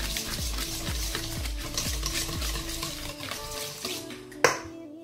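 A spoon works through a yogurt marinade mixed with onion purée, garlic, chili and pepper for homemade kebab, making a rhythmic wet stirring and scraping against a bowl, close by, ending with a sharp knock, no talking.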